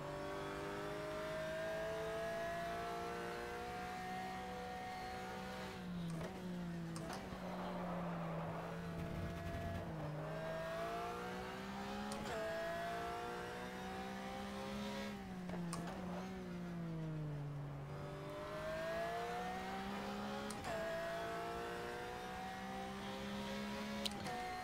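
Race car engine in the 2004 racing sim GTR 2, revving up and down through gear changes, a loud buzzing harmonic whine that climbs and drops repeatedly over about twenty-five seconds without talk.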